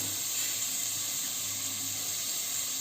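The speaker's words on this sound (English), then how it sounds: "So as the onions are getting fried" Chopped onions fry in a pan for spicy mutton liver fry, a steady, fairly loud hiss of sizzling oil that holds evenly without breaks.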